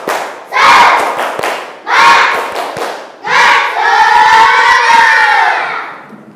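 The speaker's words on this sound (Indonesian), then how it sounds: "Coba ya, tepuk semangat." A classroom of primary schoolchildren loudly performing a spirit clap chant, three shouted bursts of rhythmic claps and voices in unison, then a longer sustained group cheer, close and energetic.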